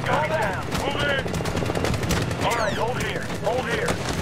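Gunfire in the 2010 Medal of Honor video game, a steady stream of rapid automatic bursts and shots rattling throughout, loud and close, with voices shouting over the combat.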